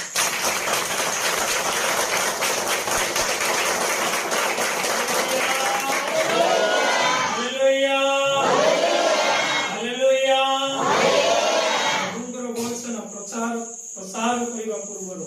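A church congregation claps together in praise, a dense burst of applause at the start that gives way to a voice talking and then to scattered, thinner clapping.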